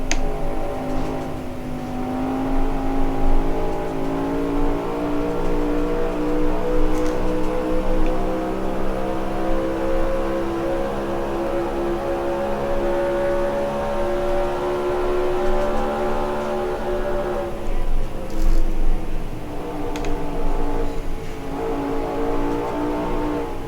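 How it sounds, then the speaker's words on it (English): A large pack of NASCAR-style stock car engines racing in NASCAR Racing 2003 at Pocono, a dense layered drone of many engines holding steady pitch, with a brief surge and dip near the end, loud and continuous with no talk. "Oh yeah, we got a massive pack of cars right here."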